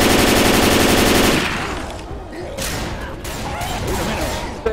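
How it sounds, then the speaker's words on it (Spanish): Left 4 Dead 2 gunfire aimed at the Tank: a loud, dense automatic burst rattles close by, then cuts off into quieter scattered shots and clatter, with a voice briefly under it. "¡Disparadle al puto tanque!"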